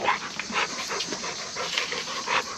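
A dog pants rapidly up close, quick rhythmic breaths in a steady stream for a couple of seconds with no voices over it.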